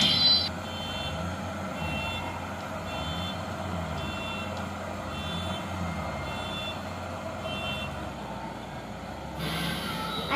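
A harvester stuck in a field's mud drives out with a low, steady engine drone, while a repeating reversing beep sounds at regular intervals throughout, fairly close.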